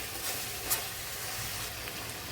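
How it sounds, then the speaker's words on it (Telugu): Raw prawns frying in hot oil with garlic for an Andhra-style gongura prawn curry, giving a steady, loud, close sizzle that runs continuously with no talking. "వేపుకున్నాం కదా ఆయిల్లో, రొయ్యలు వేసుకున్నామండి."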